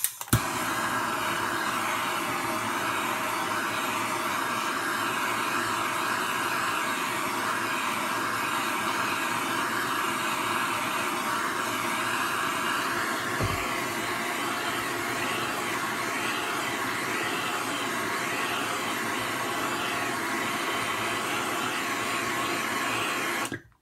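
A heat gun heating motorcycle engine casings blows with a steady, even, close whooshing hiss that holds at one level from start to finish, with no talk over it.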